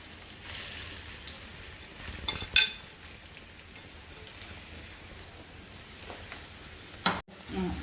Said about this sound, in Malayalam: ഇഞ്ചി വറുക്കുന്നതിന് വേണ്ടി ഒരു പാൻ അടുപ്പത്ത് വെച്ചിട്ടുണ്ട്